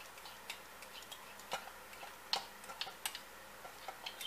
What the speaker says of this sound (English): I'll get a spoon here and stir it.